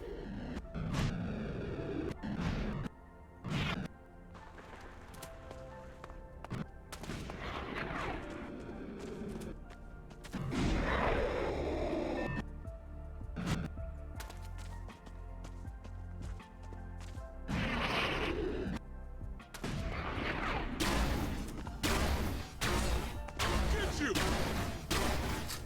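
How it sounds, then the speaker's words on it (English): Plasma rifle fire in the video game ELEX 2, a series of sharp energy blasts and cracks, some in quick bursts, over game ambience with scattered quiet stretches between volleys. "Use the plasma rifle."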